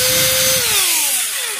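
A corded drill/screwdriver combo run from a homemade high-power bench supply whines loudly with a steady motor tone that then winds down in pitch as it slows, heard alone without talk.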